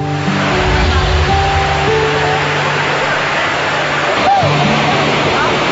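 A waterfall splashes in a continuous broadband rush near the listener, while faint tonal hums come and go underneath.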